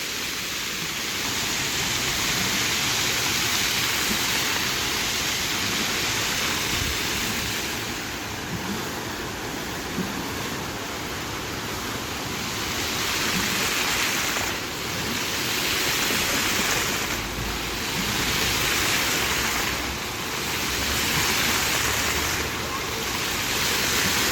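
Multimedia fountain in Lublin, its jets splashing in a steady broadband wash of falling water that swells and eases, with faint voices blended into the background.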